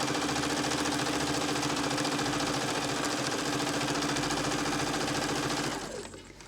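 A sewing machine runs steadily, stitching a seam around a shirt sleeve, its fast even mechanical chatter loud and close throughout before slowing and stopping near the end.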